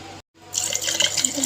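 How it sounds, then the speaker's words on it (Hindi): Cold water pours into a jug of tamarind and plum pulp for sharbat, starting after a brief silence as a close, steady splashing gush. "ठंडा पानी इसके अंदर हम डाल देंगे।"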